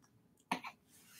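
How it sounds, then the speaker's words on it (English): A single short cough bursts out at close range, followed by a softer second huff, against a quiet room background. "cough"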